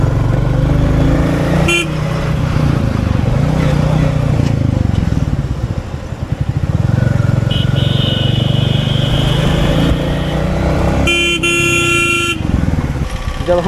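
A Royal Enfield Classic 350 motorcycle idles and creeps through heavy road traffic, its low engine thrum running throughout while several loud car and truck horns blare in short and sustained bursts nearby, some overlapping.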